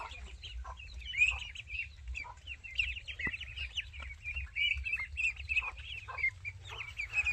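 Ducklings on a native duck farm call repeatedly in a busy chorus of high peeping and quacking while waiting for food, fairly close and continuous.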